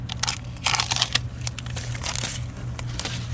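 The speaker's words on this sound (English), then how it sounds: "So we can go ahead and remove our tape." Masking tape is peeled away from a Chevy NBS master cylinder being fitted to an OBS 88-98 truck, with close crinkling and crackling that rises in short bursts and then continues as a lighter rustle.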